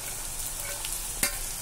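Fish head, already crushed with a spatula, frying and being stirred with potato and onion in a pan, giving a soft steady sizzle with a single sharp spatula scrape near the end, close and fairly quiet.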